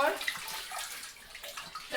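Weak, low-pressure trickle of water from a tap in a Panama home bathroom, a soft broadband hiss that runs steadily through the moment with faint clatter and a brief voice in the background.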